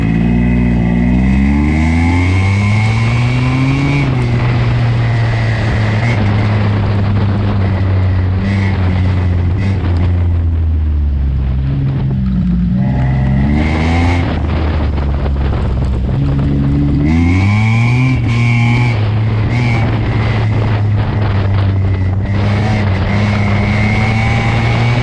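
A Ford Mustang races hard around a wet autocross course, its loud engine revving up and down in repeated climbing sweeps through gear changes. Heavy wind buffets the microphone throughout, and nobody speaks.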